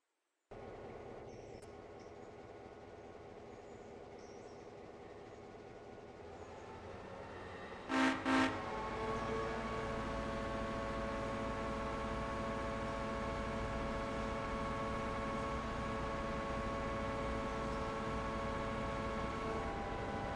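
Locomotive in the Railroader train game, a low rumble that swells into a steady loud running drone after two short horn toots, with no voices.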